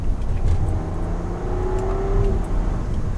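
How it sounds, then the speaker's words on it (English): A 2017 Bentley Bentayga W12 engine revs and accelerates steadily after a downshift, a rising tonal whine over a rumbling low drone, continuous and fairly loud throughout. "And then we'll do a quick downshift."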